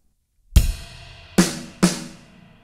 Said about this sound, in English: We're gonna start off by hitting the ride cymbal, and then we're gonna hit our snare drum two times.